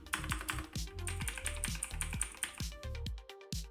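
Computer keys clatter in rapid, uneven bursts of typing, close and clear, with individual keystrokes including presses of the backspace key and brief pauses between runs.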